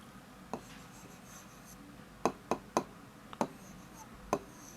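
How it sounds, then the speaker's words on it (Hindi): Hand writing of an Urdu word during a Class 7 lesson: a few sparse, sharp scratchy strokes and taps, quiet and close, with no talking. "इसको हम लिखते हैं फूलों।"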